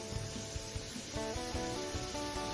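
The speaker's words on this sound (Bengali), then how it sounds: "আমি এখন জল দিচ্ছি, জল দিলাম" Water hits a hot pan of hilsa fish head and tail curry, a sharp steady sizzling hiss with faint bubbling that carries on for a couple of seconds, no talking.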